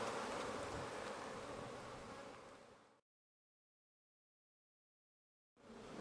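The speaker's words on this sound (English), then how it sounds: "the worker bees are busy taking care of them" Honeybees buzz steadily inside an active hive where workers tend uncapped larvae, a dense, close hum that carries for about three seconds, cuts to silence, then resumes at the end.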